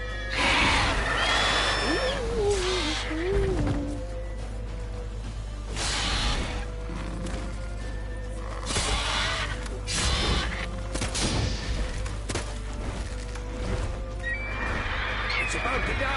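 A horse in The Witcher 3 video game whinnies loudly near the start, with hoof clip-clops and further horse noises under game music, while characters speak over it.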